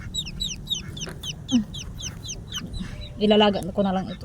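Hen clucking among her newly hatched chicks, the chicks' high rapid peeping repeating steadily throughout while the mother's low clucks come near and loud toward the end, with a person speaking briefly.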